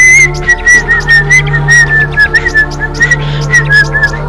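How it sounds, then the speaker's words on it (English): A person whistling a steady, bright melody in short repeated phrases, loud and close over a low constant hum from World of Goo. "Good enough whistle."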